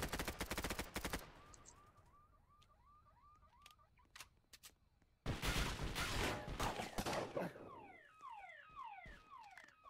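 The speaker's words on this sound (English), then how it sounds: "I'm literally in a gunfight right now, bro." Video game gunfight with rapid automatic bursts, a pause filled by chirping alarm-like tones and a few stray shots, then another loud sustained volley of fire.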